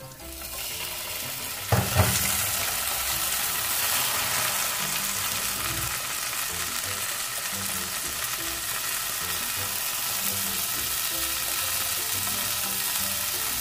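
Four small garlic cloves frying in a pan, a steady dense sizzle that runs throughout, with a brief clatter of stirring or a utensil near the start and no talk.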